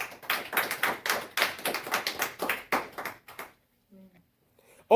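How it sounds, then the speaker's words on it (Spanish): A church congregation claps together in praise, a burst of sharp, fairly rhythmic handclaps lasting about three seconds before tapering off into near silence. "Un aplauso al Señor Jesús."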